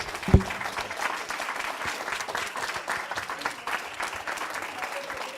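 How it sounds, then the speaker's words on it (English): A live faith-event audience applauds its leaders, a brief burst of moderate clapping with a sharp thump at the start, continuing evenly for a few seconds. "Give them a round of applause."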